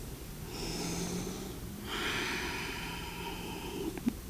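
Two long, audible breaths, one after the other, during a held forward fold in Ashtanga yoga. Each is a smooth, whispery rush of air through the throat, close and quiet, with no voices.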